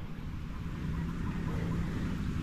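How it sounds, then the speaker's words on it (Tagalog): Strong sea waves surge and wash continuously at close range, a dense steady roar mixed with wind buffeting the microphone, with no talk over it. "Malakas po yung alon, kaya papasin nyo ang galaw po ng tubig."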